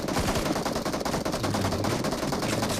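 Rapid bursts of gunfire from the Free Fire video game during a league-stage match, dense and loud throughout with no pause.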